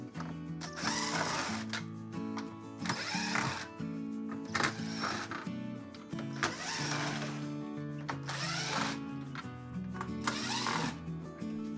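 Long 3/8 bolts being unscrewed from a Furrion Chill Cube RV air conditioner with a power driver, repeated whirring bursts of a few seconds each, separated by short pauses.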